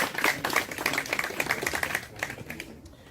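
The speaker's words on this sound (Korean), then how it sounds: "여러분 큰 박수 주시기 바랍니다" A small outdoor crowd at a memorial ceremony in front of an old house claps warmly to welcome a haegeum performer, the brisk close claps thinning and fading out toward the end.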